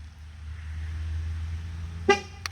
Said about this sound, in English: hold the button, horn honks